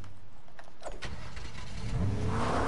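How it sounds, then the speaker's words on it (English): A vehicle in Fortnite cranks its engine to life and pulls away, the motor swelling into a rising rev over a steady hum, close and fairly loud with no talk. "my friend is, yes indeed, in a vehicle driving"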